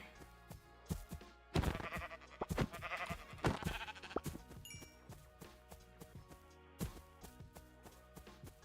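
Sheep bleat several times in the video game Minecraft, with irregular wavering cries mixed with soft thunks and hits, fairly close and spread across the clip.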